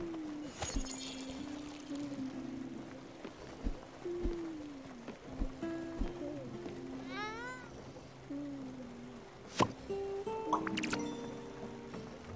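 Garden plants being watered in the video game Spiritfarer, with soft pouring and dripping splashes in short bursts. Chimes and tonal game effects play around them, and a faint voice talks underneath.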